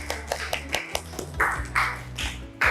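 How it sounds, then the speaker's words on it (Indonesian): A handful of people in a classroom clap in a short, uneven burst of applause, the claps close and distinct rather than a big crowd roar. "Tepuk tangan."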